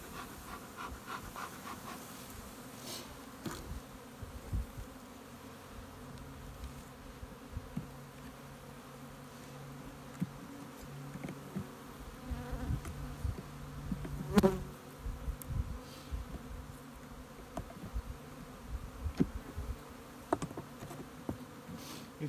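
Honeybees buzz steadily in an opened breeder hive on a cool day, a continuous low drone with individual bees passing close now and then, no speech.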